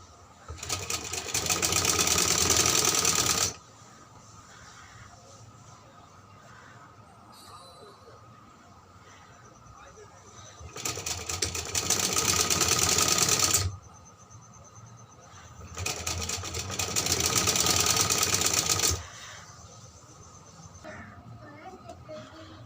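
Domestic sewing machine stitching the seams of a baby frock, running in three loud steady bursts of a few seconds each, separated by quieter pauses with faint handling.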